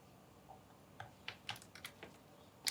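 Soft, close keystrokes on a computer keyboard entering a value, about eight separate clicks spaced irregularly over a quiet background.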